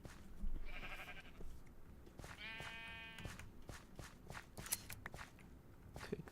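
Minecraft sheep give two clear bleats, one short and one longer and more wavering, while shears snip and blocky footsteps patter underneath. Fairly quiet and close, with no talking.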